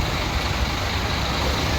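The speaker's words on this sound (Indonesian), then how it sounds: "Banyak bus-bus Bandung yang berangkat." Steady low engine rumble of a large Epa Star bus on a tronton chassis pulling away, a continuous broadband roar with no pauses.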